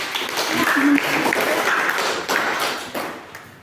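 Applause fills a classroom after a group presentation, a dense patter of many hands clapping at close range that slowly fades over a few seconds, with a teacher's voice speaking over it.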